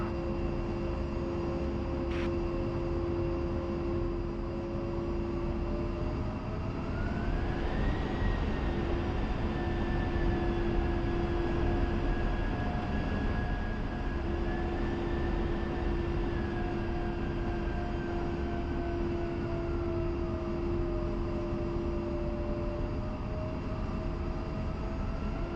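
An A-10C jet in the DCS flight game holds a steady, droning engine whine that rises in pitch as power comes up for the takeoff roll, then levels off and eases down again, with no voices.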